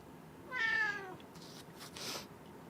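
One indoor cat lets out a single rising-then-falling meow, fairly near and moderately loud, over quiet background hiss, with no one speaking.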